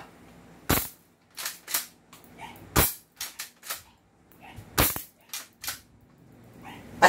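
A toy shotgun firing shells gives sharp snapping cracks, several in sequence, close and loud, with clicking and clacking of loading and pumping between shots.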